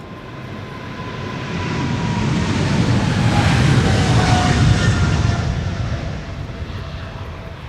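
A Cargolux cargo plane taxis at Amsterdam Schiphol Airport, its jet engines a steady loud roar that swells toward the middle and slowly eases, with a faint whining tone throughout.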